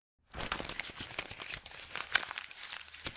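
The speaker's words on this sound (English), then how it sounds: "next thing up is this paper crumpling" Paper crumples and crinkles close up in a dense, textured run of crackling bursts with sharp crisp snaps, starting after a brief silence.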